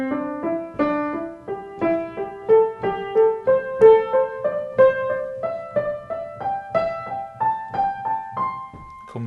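Piano notes run up a pentatonic scale in repeating groups of three, each note clear and evenly paced, climbing steadily in pitch over several seconds before dropping at the end, with no talking.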